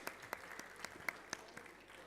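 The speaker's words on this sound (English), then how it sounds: "Can we have a big round of applause for Arunachal Pradesh?" Audience applause at a national mining ministers' conference: steady, fairly soft clapping from a crowd runs throughout, with a few sharper individual claps standing out.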